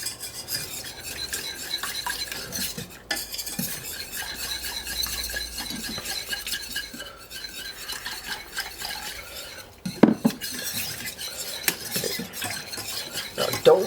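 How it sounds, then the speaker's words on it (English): A whisk scrapes and clinks steadily against a pan as milk is beaten into a potato mixture, a close, continuous rhythmic stirring with a few sharper metal knocks near the end. "Make sure you whisk it until all the lumps are out."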